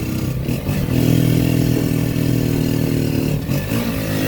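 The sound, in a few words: motorcycle climbing a steep road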